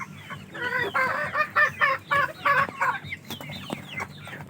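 A large flock of big, nearly market-ready chickens on a farm in the afternoon clucks close by in a quick, rhythmic run of repeated calls that fades into scattered softer clucks.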